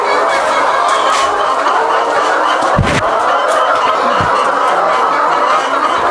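Thousands of laying hens in the laying section of a large poultry farm cluck and squawk together in a dense, continuous loud chorus, a constant crowd of bird calls filling the space.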